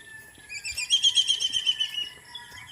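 A bird sings a rapid series of bright, repeated chirps in farmland fields, fairly close and clear, over quiet rustling background.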